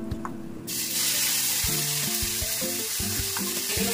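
Ginger and green chili paste hits hot oil in a kadai already holding black cumin and asafoetida, bursting into a loud, sustained sizzle after a quieter start, with a few faint tonal sounds in the background.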